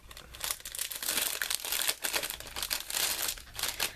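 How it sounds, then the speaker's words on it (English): Continuous crinkling of plastic packaging around a roll of 3/8 inch score tape, close and fairly loud, with dense irregular crackles running throughout and no talking. "I gotta figure out some way of labeling these so I can keep them out of the packaging, because that noise drives me bonkers"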